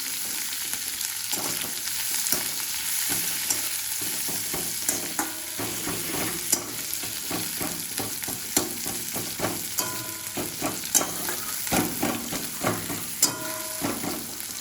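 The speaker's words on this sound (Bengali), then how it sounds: "পেঁয়াজটাকে ভালো করে ভেজে নেবো আমরা" Onions fry in oil seasoned with dried red chillies and whole cumin for a chicken masala, a continuous close sizzle punctuated by regular scraping and clacking of a spatula against the pan.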